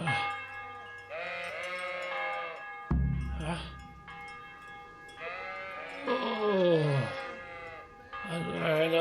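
Sheep in Kingdom Come: Deliverance bleat repeatedly, several loud, wavering calls close by, with background sounds and softer bleats between them.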